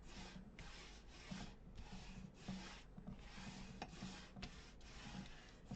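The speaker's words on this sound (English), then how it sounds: "I'm going to flip it over," Paper being burnished down onto a junk journal album cover with firm, repeated rubbing strokes, a rhythmic scraping swish close up and fairly quiet.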